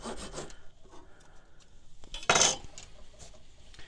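Short cutting stroke through a 5/16 inch wooden dowel on a birdhouse build, a quiet scraping rasp with a brief louder burst near the end, close by.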